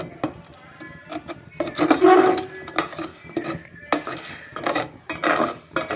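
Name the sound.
spoon stirring tea in a pot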